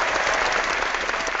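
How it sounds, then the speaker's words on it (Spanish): Brief, dense applause from a television studio audience on a talk show for entrepreneurs, steady and fairly loud throughout with no voices over it. "yo en este momento de verdad que te doy un aplauso"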